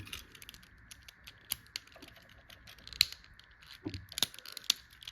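Plastic limbs of a vintage Transformers Headmasters Autobot toy are folded into place, giving sparse light clicks and small snaps over a quiet background.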